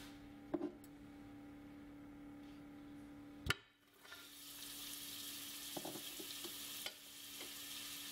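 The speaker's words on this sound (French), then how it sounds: "Faire chauffer l'huile et le beurre à feu vif jusqu'à ce qu'une légère fumée apparaisse." Oil and butter heat in a pan over high heat for cooking steaks, giving a faint, steady sizzle. A utensil clatters once, and then the frying hiss grows louder and more even.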